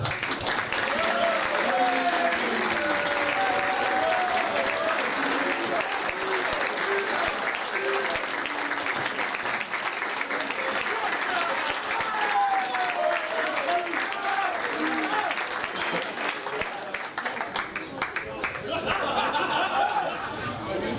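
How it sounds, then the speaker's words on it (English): An audience at a rugby league Grand Final event applauds steadily for about twenty seconds, a dense sustained clapping with scattered chatter and laughter mixed in. "Please give a big round of applause for our individuals."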